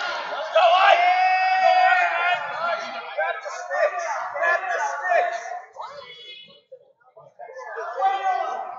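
A high school student section in Quakertown cheers at a wrestling match, with loud sustained crowd shouting and whoops that swell early then dip, rising again near the end.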